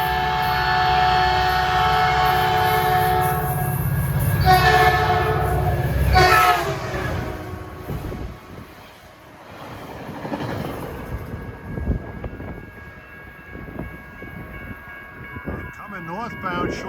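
A Caltrain limited-stop train bound for San Jose sounds a long, loud horn as it approaches and rushes past without stopping, the horn blasts fading into rolling wheel and track noise.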